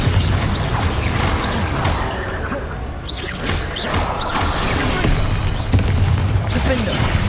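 Confringo fire spell blasts in the Hogwarts Legacy video game burst repeatedly in a busy fight, with whooshes, booming impacts and crackling debris over a constant loud wash of effects.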